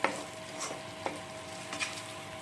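Spice paste for a dhaba-style paneer curry being stir-fried in oil, a soft continuous sizzle broken by a few scraping strokes of a spoon across the pan, quiet and close, with no voices.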